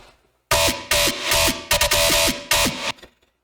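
A synthesizer bass riff after a brief silence: a series of choppy, plucky notes in an uneven rhythm, bright and fairly loud, then a short tail.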